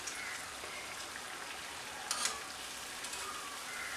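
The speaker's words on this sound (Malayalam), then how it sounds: "അപ്പോൾ ഇത് നല്ലപോലെ ഒന്ന് ഫ്രൈ ആയി വരട്ടെ കേട്ടോ" Jackfruit unniyappam fry in hot oil with a faint, even sizzle and fine crackle, quiet and close, marked by a couple of brief sharper pops.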